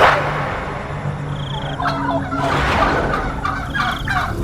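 Wild jungle fowl calling in forest, a few rough gobbling, clucking bursts over steady outdoor noise, moderately near and without any talk.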